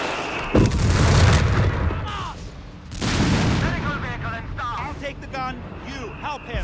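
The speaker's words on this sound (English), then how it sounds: "Taking fire from Panzers!" Booming artillery and bursts of gunfire from a Company of Heroes 3 multiplayer battle with the Afrika Korps, heavy impacts rolling under shouted in-game unit voices and radio chatter.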